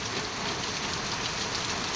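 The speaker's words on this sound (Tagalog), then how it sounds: "Lakas ng ulan." Heavy rain pouring steadily onto a surface, a dense constant hiss of drops, close and loud with no other sounds.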